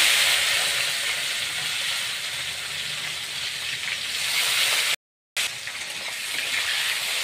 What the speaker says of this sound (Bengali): পেঁয়াজটাকে এখন ভালো করে একটু ভেজে নেব হালকা করে